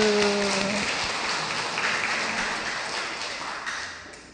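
A crowd applauds steadily after a brief musical note, the clapping continuous and gradually fading toward the end.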